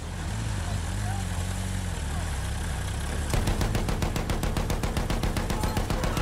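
Rapid, sustained machine gun fire in the Battlefield 1 video game, a fast even stream of shots over a heavy engine rumble from an assault truck, loud and close.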